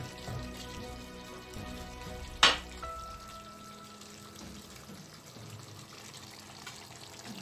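Onions with green and red peppers being stir-fried in a pan for a liver and shatkora curry give off a faint, steady sizzle, with one sharp metallic clack partway through.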